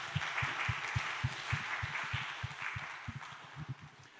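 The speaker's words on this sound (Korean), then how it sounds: "하나님께 다시 한번 감사와 영광의 박수 올려드리겠습니다" A church congregation applauds during a youth worship service, a soft distant wash of many hands clapping with a regular thumping beat running beneath it.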